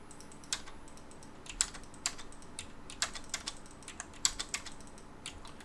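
Keys on a computer keyboard are tapped while numbers and commands are typed into AutoCAD, giving quiet, close, irregular clicks scattered across a few seconds with no voice over them.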